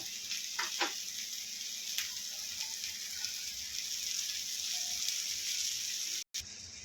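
Bangda mackerel fish frying in a pan after being flipped, a steady soft sizzle with faint crackles running throughout, close by, with a brief dropout near the end.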